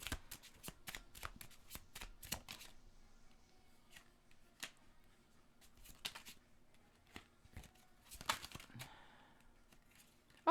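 Tarot cards being shuffled close up, quick bursts of riffling flicks followed by sparse single card snaps and a second busy shuffle near the end, fairly quiet with no talking.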